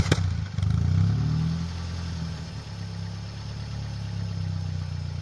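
A car engine fitted with a cut straight-pipe adapter and inner silencer cranks with a sharp click and catches in an open field, revs briefly, then settles into a steady, rumbling low idle nearby.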